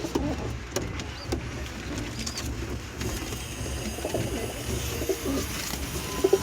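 Pigeons cooing in a room of adult birds, soft low throaty coos repeating close by over a faint background hum, with no talking.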